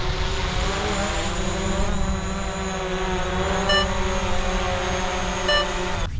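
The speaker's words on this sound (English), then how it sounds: "I'm simply going to land the drone" A DJI Mavic Pro drone hovers close by as it comes in to land, giving off a steady, high-pitched whine from its propellers. The pitch stays even, with slight wavers.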